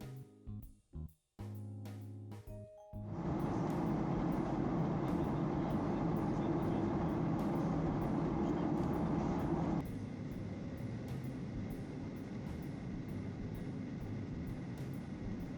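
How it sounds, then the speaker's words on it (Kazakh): An automatic airport train carrying passengers between terminals rolls along steadily, a loud continuous rumble with rail clatter that rises after a few seconds of clicks and then settles slightly quieter, with no talking. "екі терминалдың арасында адамдардың қатынауы үшін автоматты пойыздың жүруі"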